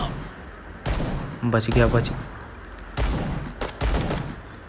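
Gunfire in the mobile shooter game Bullet Echo: several sharp bursts of shots at irregular intervals, loud and close, with a player talking briefly between them.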